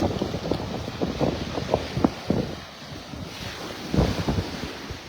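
Strong wind buffets the microphone on Delnor-Wiggins beach in North Naples, Florida, in gusty rumbling bursts, with surf washing faintly behind it and no voices.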